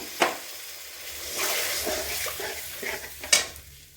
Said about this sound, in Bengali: আমি বারবার জল দিচ্ছি আর নেড়েছি